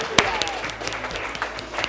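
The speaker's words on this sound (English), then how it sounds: "Round of applause for your kids" An audience at a youth mentorship program graduation claps steadily for the kids, a broad wash of applause with a sharp clap early on and talk rising over it.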